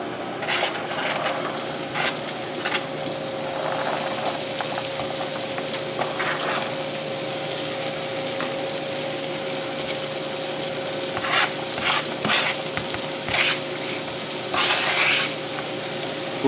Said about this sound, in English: Now we saute some onions.